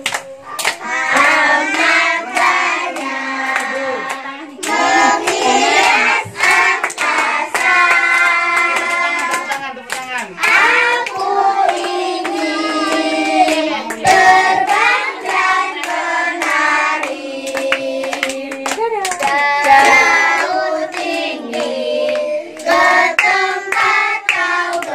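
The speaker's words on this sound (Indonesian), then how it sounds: "Ayo sambil tepuk tangan, sambil tepuk tangan." At a children's birthday party, children sing a song and clap their hands along in rhythm; the close, sharp claps repeat through the whole stretch beneath the bright, steady singing.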